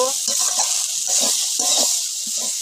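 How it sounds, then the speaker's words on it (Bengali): Chopped greens are tossed and stirred in a pan over a constant hiss of cooking. Soft, rhythmic scraping strokes come close by in quick bursts. "দিয়ে দিচ্ছি। এবার একটু নেড়ে চেড়ে নেব।"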